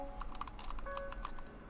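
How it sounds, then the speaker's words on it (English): A computer keyboard is typed on during a Gang Beasts game session, with a quick run of about a dozen light, irregular key clicks, close and fairly quiet, with faint tonal game sounds underneath and no talk. "I'm using keyboard and mouse"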